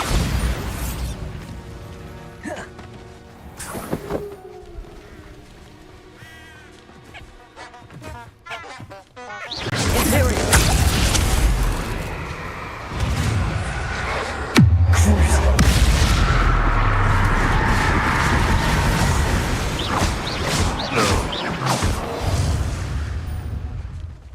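Explosion from the Bombarda spell in Hogwarts Legacy, a heavy boom with a crashing, rumbling aftermath that stays loud for several seconds after quieter musical tones.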